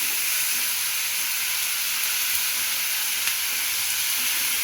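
Chopped onions and chilli frying in a pan with salt for bottle gourd kofta give off a steady, loud, unbroken sizzling hiss that runs the whole time, with no talking.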